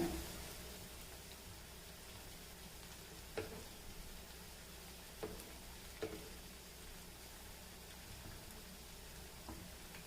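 Potato pakoda frying in hot oil gives a steady, quiet sizzle throughout, with a few soft clicks and taps from stirring or turning pieces now and then.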